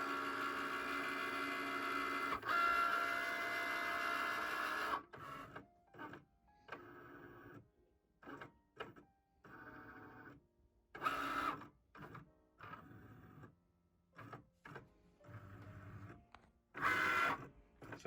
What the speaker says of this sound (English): press the Cricut button